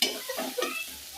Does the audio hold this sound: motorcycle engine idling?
no